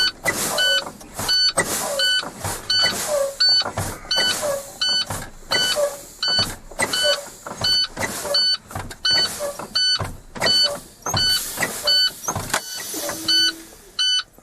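Air brakes on a truck being fanned during an in-cab air brake test, with a rapid series of sharp pneumatic bursts and hisses repeated about a dozen times while a warning buzzer beeps steadily in the cab.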